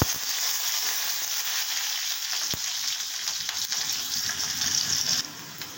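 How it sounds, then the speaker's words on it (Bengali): Onions hit a hot pan for a chicken sukka and sizzle loudly, crackling steadily with a few sharp pops before the hiss drops away near the end. "আমি এবার পেঁয়াজটা দিয়ে দিচ্ছি।"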